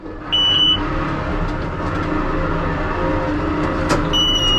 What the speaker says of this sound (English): Fire up motor 1.